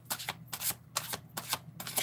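Tarot cards are riffled and shuffled in several quick bursts with short pauses between them. The sound is close but fairly soft, with no voices.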